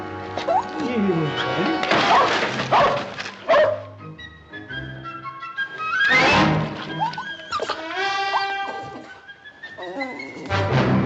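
A dog barks and yips in an outdoor Western ranch setting, sharp barks scattered through the clip amid a busy soundtrack with music and a man calling to it.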